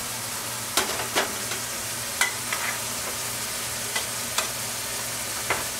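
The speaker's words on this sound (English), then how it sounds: "We got our butter melting in here" A stick of butter melts and sizzles in a pan with chopped onions and ground beef for shepherd's pie, a soft steady fry broken by several sharp clinks and scrapes of stirring.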